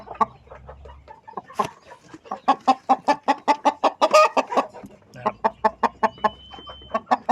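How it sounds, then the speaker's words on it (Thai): A young Thai fighting rooster clucks in a rapid, loud, close series of sharp rhythmic notes, pausing briefly midway before resuming, with faint low background hum. "มาแนะนำไก่หนุ่มขึ้นฟูงอีกตัวหนึ่งครับ"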